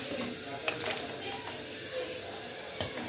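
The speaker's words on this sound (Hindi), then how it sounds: "पानी का उबाल आ रहा है। तो अब डाल दे देंगे आम।" Mango pieces go into a pot of boiling water while making mango preserve (aam ka murabba). A steady, close hiss of boiling runs throughout, broken by a couple of brief knocks or splashes.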